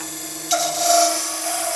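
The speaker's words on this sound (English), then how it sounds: "When I'm scraping," A scraper works a spinning mix of timber and epoxy on a wood lathe, giving a steady close rasp with a ringing whine that rises abruptly partway through and then holds.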